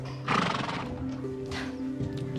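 A horse neighs loudly in a sharp, shaky whinny, then gives softer snorts and shifts with faint hoof movement nearby.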